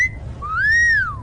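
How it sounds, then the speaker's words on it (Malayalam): A single bright whistle sounds alone: a short steady tone that breaks off, then a rising and falling slide lasting about half a second, loud and close. "വിസിൽ വിഴുങ്ങിയ"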